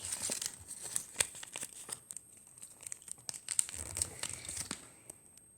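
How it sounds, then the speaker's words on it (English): Origami paper being folded and creased into a purse, heard as quiet, close crinkling and crisp snapping rustles coming in irregular bursts, with no talk over them. "Now I turn it this way and fold it up this way."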